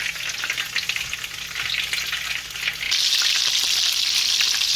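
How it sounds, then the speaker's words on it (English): Stuffed zucchini flowers sizzle and crackle steadily in hot frying oil, a dense hiss that grows brighter and louder partway through. "Listen to that sizzle."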